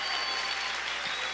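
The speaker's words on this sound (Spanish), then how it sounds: "Si usted cree esto, déle ese fuerte aplauso al Señor." A church congregation bursts into loud, dense applause, a steady wall of clapping with no pause across a brief moment.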